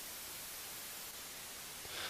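White noise combined with a one-sample-delayed copy of itself, giving a steady, dense hiss with the high end cut away, heard alone for a couple of seconds with no voices.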